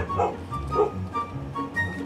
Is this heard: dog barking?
yes